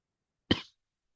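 One short, sharp cough, close and clear, with silence before and after.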